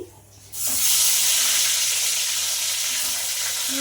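A loud, steady sizzle of eggplant frying in a pan bursts in after a brief quiet start and hisses continuously.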